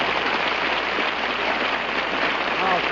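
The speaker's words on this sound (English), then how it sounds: "Please, no applause, no applause." Sustained applause from a radio variety show's studio audience, a dense, even wash of clapping that holds steady and fairly loud for the full stretch with no pauses.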